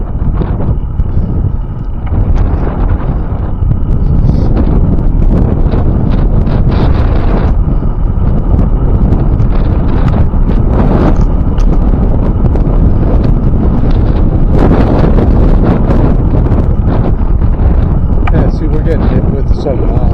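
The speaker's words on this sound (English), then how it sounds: "Getting hit with some, maybe 15 mile an hour gusts" Strong wind gusts of about 15 mph buffet the microphone during a ride through grassy meadows, in heavy, rumbling gusts throughout, with rustling and occasional louder blasts.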